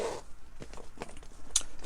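Metal zipper on a Louis Vuitton pochette pulled open by a ribbon tied to its pull, a short series of quiet ratcheting zips and rustles close to the listener.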